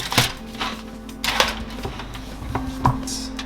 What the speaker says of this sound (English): Let's get these opened up and slice into them.